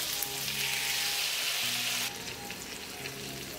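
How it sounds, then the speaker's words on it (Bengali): Kebab skewers fry in ghee on a tawa with a loud, close, crackling sizzle that drops somewhat partway through, alongside a faint steady hum and no talk. "তো এখন একে একে সেই কাবাবের শিকগুলো এর মধ্যে দিয়ে দিচ্ছি।"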